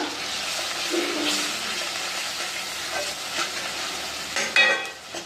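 Ground coriander, turmeric and red chilli masala being stirred in a pan for bhogichi bhaji, giving a soft continuous sizzle with light scraping strokes, close and steady, and a sharper clatter near the end.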